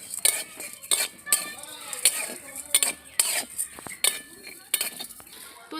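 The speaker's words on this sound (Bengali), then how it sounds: "দিয়ে মশলাগুলো ভালো করে ভেজে নেব" Dry whole spices are dry-roasted in a pan for grinding, with close, rhythmic metal scraping and clinking of a spoon stirring them against the pan and a faint sizzle in the background.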